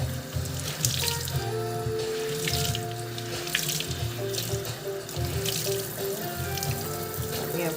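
Tap water runs steadily into a sink while tie-dyed fabric is rinsed, a continuous close splashing and trickling with faint drips and no talking.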